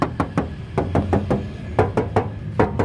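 Knuckles knocking on the door body panel of a 2012 Isuzu Panther LV 2.5 Turbo diesel family car, about a dozen close, hollow metallic raps in an irregular rhythm, some in quick pairs, with no talking.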